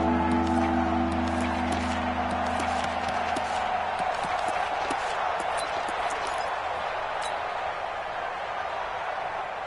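Stadium crowd in a PS4 football video game, a continuous roar of the stands with scattered claps and cheers building ahead of a big third down, with a low hum and game sounds mixed in.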